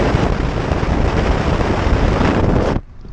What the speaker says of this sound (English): gonna be a little bit windy